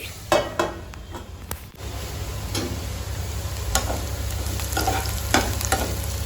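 Ginger and garlic frying in a pan for green chilli pulao: a steady close sizzle after a few sharp utensil clinks at the start, with intermittent stirring scrapes and no talking.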